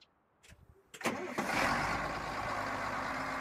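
A tractor engine in Farming Simulator 19 cranks with a few brief starter bursts, then catches and runs at a steady, loud, even drone that carries on to the end.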